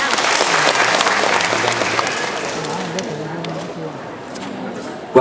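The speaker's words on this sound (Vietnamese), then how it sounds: "chúng ta cũng không quên dành thêm một tràng pháo tay thật lớn cho phần biểu diễn của nghệ sĩ Hoàng" An audience at a live Vietnamese music performance applauds a singer, a dense, loud burst of clapping that slowly thins and fades, while a voice talks over it.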